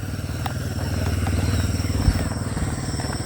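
A motorcycle engine putters steadily through a narrow village street in the traditional Pinge village of Tabanan, Bali, its throbbing buzz rising as it draws near and passes, with a faint clatter at the peak.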